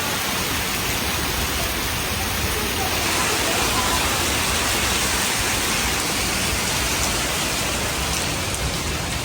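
Heavy rain pours down during flooding in Shah Alam, Malaysia, in a dense, unbroken roar, loud and close, drumming on surfaces for the whole stretch.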